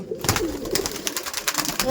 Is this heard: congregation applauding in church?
no